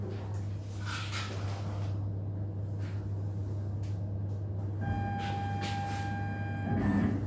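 A CauCau CNC router moves to zero its axes over a steady low machine hum, with short whirring and sliding motor passes and a thin whine near the end, indoors and moderately close, no talk.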